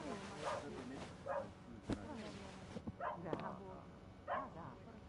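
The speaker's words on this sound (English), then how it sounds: "The puppy next door, you hear," A puppy barks and yips in short separate bursts from next door in the video game Murder on the Orient Express, faint and slightly distant, with a sharp knock partway through.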